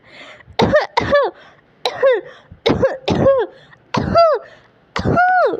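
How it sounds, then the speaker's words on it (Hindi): A cartoon bird coughs repeatedly in harsh, forceful bursts, about eight coughs with short pauses between them, close and loud. "तभी रिंकी चिड़िया खुद भी जोर जोर से खांसने लगती है"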